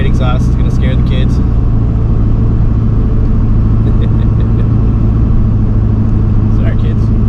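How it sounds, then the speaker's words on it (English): A GMC/Chevy truck with straight exhaust drives at speed, its engine drone steady and loud. A voice talks over the constant rumble at times. "Oh, straight exhaust is gonna scare the kids."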